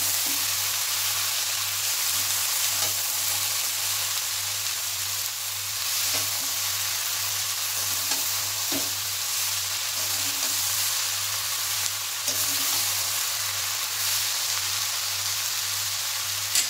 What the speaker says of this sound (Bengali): বাঁধাকপি আমার ভালোভাবে কষানো হয়ে গেছে